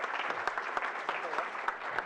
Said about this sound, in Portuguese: Uma salva de palmas aí para Bruno, pessoal.